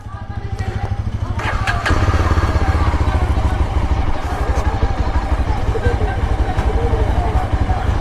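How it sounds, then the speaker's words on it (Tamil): Motorcycle engine roaring steadily on an open road, loud and close with continuous rumble and wind, building from a lower pitch at the start into a sustained full-throttle drone. "ஓ சீருதுங்க வண்டி உண்மையிலேயே"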